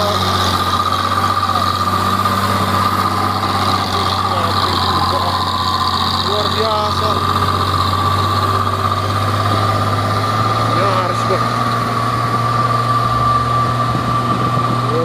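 An old Volvo trailer truck loaded with large barrels labours uphill, its diesel engine droning loud and steady throughout, with people talking over it.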